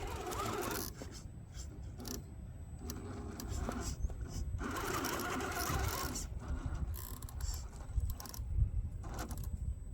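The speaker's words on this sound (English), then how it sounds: "Not enough power with this motor. I am on the throttle and it's not even turning a tire." Axial SCX10iii Gladiator RC crawler on 5.5 inch Wildpeak tires, its motor stalled against a brick under throttle, giving a close, rattling mechanical whine with ratcheting gear clicks that surge and drop in uneven bursts.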